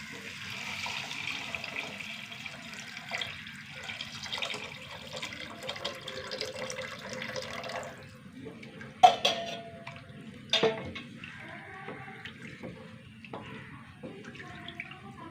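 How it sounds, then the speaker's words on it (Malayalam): Dissolved salt and tamarind water pour into a pot of rasam as a soft, steady watery stream, then a few louder splashes and clinks of utensils break the quiet, with no talking. "കലക്കി വെച്ച ഉപ്പും പുളിയും കൂടി ചേർത്ത്"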